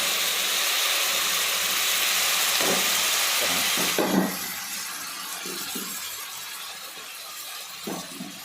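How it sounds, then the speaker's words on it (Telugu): Masala paste fries in a pan for chicken and stuffed brinjal curry, giving a steady broadband hiss throughout, louder in the first half and then quieter, with a few soft clinks. "ఇప్పుడు చక్కగా దీన్ని గోల్డెన్ కలర్ వచ్చేంత వరకు కూడా మనం వేపుకోవాలి"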